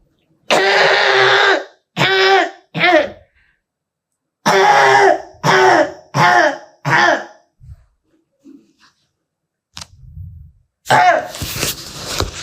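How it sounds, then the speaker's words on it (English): A patient with refractory chronic cough coughs hard and close in two quick clusters of three and four, followed by quiet breaths and one harsher, noisier cough near the end. "And cough for me."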